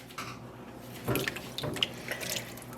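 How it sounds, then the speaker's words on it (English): Water being poured from a tap into a pot, eight cups for a yarn dyeing bath, running as a steady close fill with small splashes and clinks partway through. "But now let's bring over 8 cups of water."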